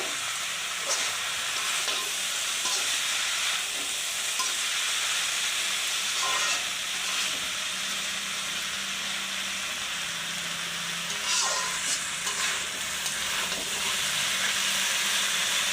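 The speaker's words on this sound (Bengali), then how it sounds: "মাছগুলো সহ আলুগুলো সহ কিন্তু খুব ভালো করে এই যে কষিয়ে নিচ্ছি।" Fish and potatoes sauté in a pan for a fish and potato curry, a steady broad hiss and sizzle with occasional scraping stirs, close and continuous, with no talking.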